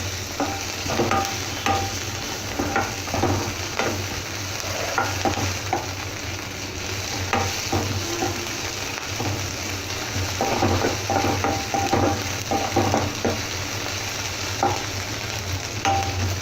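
Ginger garlic paste fries in a pan for a vermicelli snack, a steady sizzle running beneath repeated scrapes and clicks of a spoon stirring against the pan.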